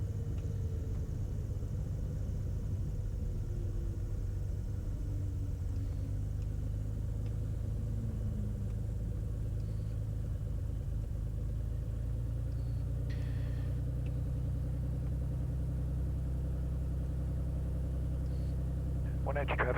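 A Beechcraft Bonanza light aircraft taxiing at Wenatchee airport, its engine giving a steady low drone that runs unbroken throughout the clip.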